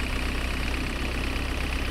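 Steady, low, unbroken idle of a street cleaning vehicle's engine in Street Cleaning Simulator 2011, a continuous drone with no voices over it.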